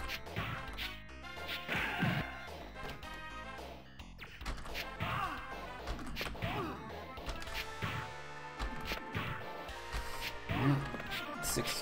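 Punches land on enemies in the video game The Super Spy, a run of sharp smacking hits and crashes in quick succession under steady talk from a player.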